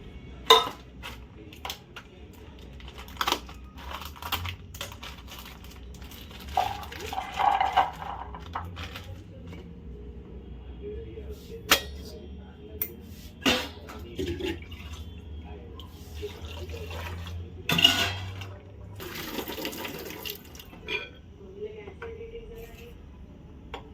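Chickpeas are rinsed and swished in water in a vessel, with intermittent clinks of a pot and utensils, light splashing and dripping, and a few faint background voices.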